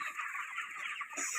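Broiler chickens in a poultry shed cluck and chatter in a dense, continuous flock sound, close and steady throughout.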